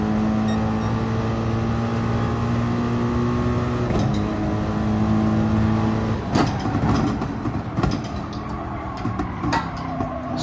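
A race car engine in GT Sport on a flying lap at Laguna Seca, holding a loud steady high-revving tone, then shifting down with revs dropping and surging through a corner, tire and gear noises crackling after.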